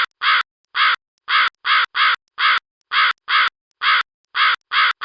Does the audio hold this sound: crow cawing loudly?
yes